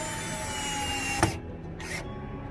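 A power drill with a bit drives larger screws during a furnace repair in a Micro Minnie 1700BH travel trailer, giving a steady high motor whine with a sharp clunk midway and a brief spurt near the end, close and continuous.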